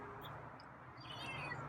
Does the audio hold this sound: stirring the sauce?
no